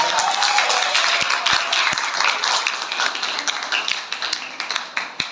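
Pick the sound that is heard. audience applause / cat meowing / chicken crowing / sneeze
audience applause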